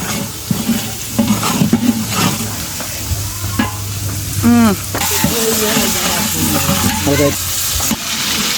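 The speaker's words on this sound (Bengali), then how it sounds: "আস্ত গরম মশলা এগুলো এখানে দেওয়া হয়েছে তারপর কষানো হচ্ছে মরিচ" Whole garam masala, bay leaf, onion and chili powder stir-fried in a pan, loud close sizzling with repeated scraping stirs, a few utensil clinks and a voice talking over it.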